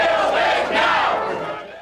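A stadium crowd at Milwaukee's County Stadium chants for Bud Selig, a dense, loud wall of massed voices with a rising surge in the middle, sustained without pause.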